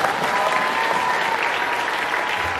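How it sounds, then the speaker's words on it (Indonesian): Steady applause from a crowd, dense clapping that holds at an even level throughout without a break. "Tepuk tangan dulu."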